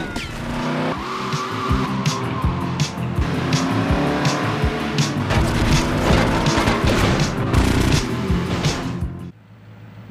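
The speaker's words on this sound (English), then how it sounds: "Great driving, Vic." In GTA Vice City Stories, a car engine drones and revs steadily under squealing tires and occasional knocks, loud and continuous for about nine seconds before cutting off abruptly.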